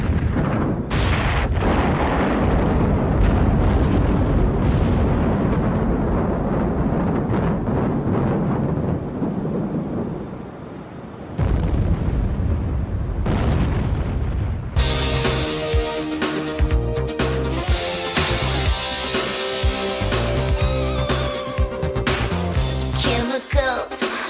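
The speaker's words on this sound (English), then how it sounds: "Making huge explosions." A sustained barrage of deep, loud rumbling booms from huge chemical reaction explosions for about eleven seconds, then a brief lull before a harsher stretch of crackling, pulsing blasts.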